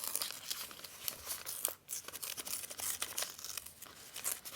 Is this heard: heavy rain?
no